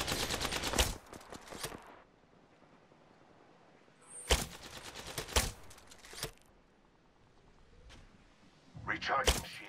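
Apex Legends gunfire comes in several sharp, loud bursts of rapid shots separated by quieter stretches with faint background game sounds.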